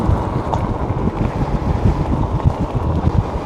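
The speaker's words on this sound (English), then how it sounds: "Good old Texas wind." Strong wind buffets the microphone during a late-night ride in Georgetown, Texas, a loud, dense low roar with constant gusty rumbling and no voices.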